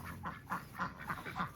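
Ducks being caught let out a run of about six short, nasal quacks in quick succession, close but fairly quiet, with no talk.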